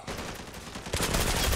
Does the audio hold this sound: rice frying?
no